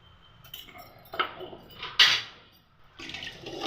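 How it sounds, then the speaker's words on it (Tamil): A spoon scrapes and clinks in a pot as rock salt is stirred into boiling water, with watery sloshing and bursts of bubbling between the strokes. "நல்லா கலந்துக்குங்க. நல்லா கொதிச்சிட்டோம்."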